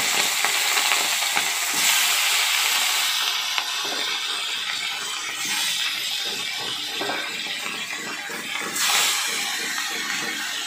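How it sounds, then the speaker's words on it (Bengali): Small bata fish fry in hot mustard oil in a kadai, giving a loud continuous hiss and crackle with occasional swells of sizzling and light stirring. "এবার আমি ছোট ছোট বাটা মাছগুলো ভাজা করে নিচ্ছি।"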